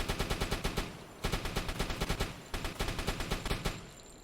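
Rapid machine-gun bursts from a submarine deck gun strafing a ship's waterline in the UBOAT game: three long runs of evenly spaced, sharp shots with short gaps between, loud and close, with no talk.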